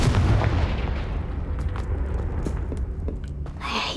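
Confringo spell blasts go off in Hogwarts Legacy, booming explosive bursts with rumbling low-end decay that fade over several seconds, then a brighter crackle near the end.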